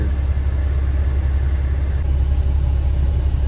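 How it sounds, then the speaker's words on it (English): Strong wind drives snow through a low-visibility storm, producing a loud, continuous low rumble of gusts buffeting close by with no break. "Winds are just cranking out there."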